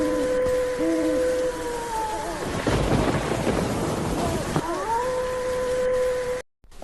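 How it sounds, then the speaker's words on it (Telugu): On a rainy night in a dense forest, animal calls that resemble owl hoots ring out in steady tones over a constant rush of rain, broken by a loud rolling rumble of thunder midway before the calls resume. "అడవిలో జంతువులు వినిపిస్తున్నాయి"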